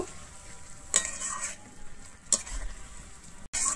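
Raw green mango chutney with salt being stirred in a pan, a soft sizzling bed broken by a few sharp scrapes and clinks of the spoon against the pan.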